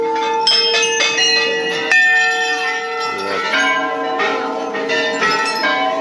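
Dozens of brass bells ring at a crowded Hindu temple in Uttarakhand, their overlapping clangs and long metallic tones chiming continuously and loudly with no talk.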